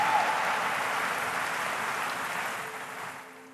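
Church congregation applauding at an evening summit, a broad continuous wash of clapping from many hands that slowly fades toward the end.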